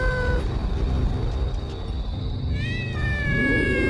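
A cat in a horror story lets out drawn-out meows and wavering caterwauls over a dense, rumbling background, with one cry at the start and a longer rising wail near the end.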